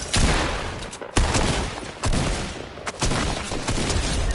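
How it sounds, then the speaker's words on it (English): Gunfire in the Fortnite video game: loud bursts of rapid shots arrive in several volleys separated by brief pauses, with no voices over them. "Oh, I hear shooting."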